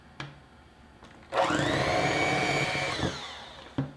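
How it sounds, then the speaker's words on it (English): An electric mixer whirs for about two seconds as it blends flour into pumpkin cookie dough, framed by a few light knocks from the bowl before and after. "scrape the sides and mix in the rest of that flour"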